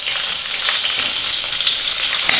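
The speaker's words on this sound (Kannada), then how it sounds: "ಸ್ವಲ್ಪ ಕರಿಬೇವಿನ ಸೊಪ್ಪು, ಈಗ ಕಟ್ ಮಾಡಿರುವಂತಹ ಈರುಳ್ಳಿ ಹಾಕ್ತಾ ಇದ್ದೀನಿ" Onion, one or two dried red chillies and curry leaves frying in hot oil in a pan, a loud, steady crackling sizzle that holds evenly throughout with no talking.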